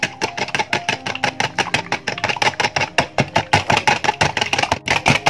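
Egg with vanilla essence is beaten briskly in a bowl, giving a fast, steady, loud rhythmic tapping and clatter that runs without pause and with no talking.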